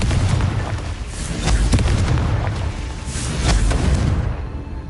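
Repeated Confringo blasting-spell explosions in the Hogwarts Legacy video game, a steady run of heavy booms and crackling bursts at close range, loud and dense throughout with no talk.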